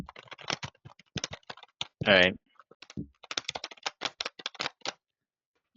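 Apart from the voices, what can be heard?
typing on a computer keyboard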